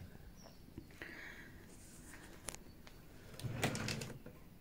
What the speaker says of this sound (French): Ah, que c'est agréable d'ouvrir des tiroirs et que c'est bien rangé.